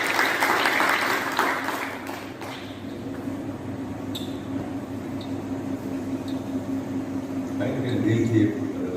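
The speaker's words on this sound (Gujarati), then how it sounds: "એમ તો બધાને આપણા વતી એકવાર તાળીઓથી વધાવીએ" An audience welcoming Sai devotees in Panchlay claps in a sustained burst of applause that thins out, with a voice talking over it.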